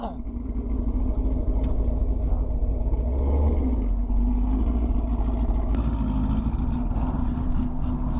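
A Chevrolet Camaro with bolt-on modifications, running on E85, rolls onto a dyno with a steady, low engine rumble close by and faint voices in the background.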